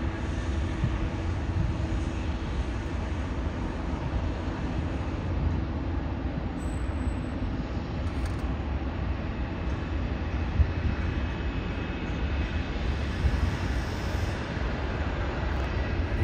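A Korean Air Boeing 777-300 jet airliner departing Sydney, a steady, loud broadband engine roar that holds constant throughout with no voices.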